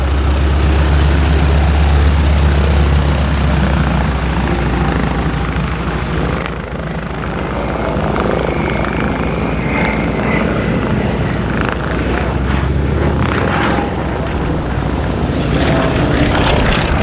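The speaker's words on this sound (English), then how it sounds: "There's the Hellcat, and you see the Wildcat on the downwind." An F6F-5 Hellcat and an FM-2 Wildcat propeller fighter fly past at an air show, a loud sustained engine roar that swells and fades slightly across the pass.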